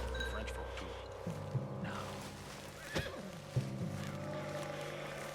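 A horse whinnies and snorts in the video game Red Dead Redemption 2, with a few short neighs standing out over a steady background of ambience and game sounds. Characters talk over part of it.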